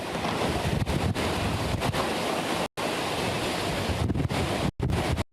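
Hurricane Michael's wind roars and buffets constantly on the Florida Panhandle, loud and close, a broad rushing storm noise broken by brief sharp dropouts where gusts hit the microphone.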